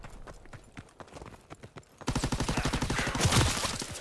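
Rapid gunfire from a World War II shooter game, Call of Duty: WWII, starting halfway in as a dense, loud stream of sharp repeated shots after a quieter stretch of scattered clicks and thuds.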